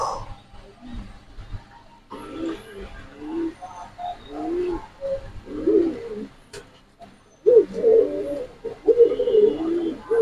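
Domestic pigeons coo in short, throaty bursts close by, with fancy and racer breeds kept at a farm; the cooing grows louder and denser toward the end, with faint voices in the background.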